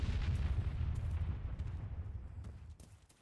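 A car bomb in the military video game Arma 3 detonates with a deep, heavy rumble that starts loud and close, then rolls and slowly fades over about three seconds, with no voices.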